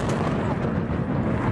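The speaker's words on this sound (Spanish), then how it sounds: "Una enorme explosión destruye un buque de desembarco naval ruso." Huge explosion destroying a Russian naval landing ship in Crimea, filmed by an amateur: a sustained, loud, dense rumbling roar with crackling bursts filling the whole span, no pause or silence.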